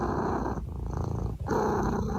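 A contented cat purrs close up, a steady rhythmic rumbling with a brief dip partway through, and no one speaking.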